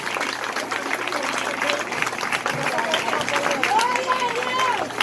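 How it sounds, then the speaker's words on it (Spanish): A church congregation applauds during a service, with steady clapping mixed with crowd noise and a voice talking over it. "Alguien puede aplaudir a Dios en esta hora."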